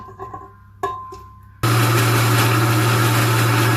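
After a few light clicks and knocks, a countertop blender purees cooked strawberries. It switches on abruptly to a loud, steady, high-pitched whir that runs without a break to the end.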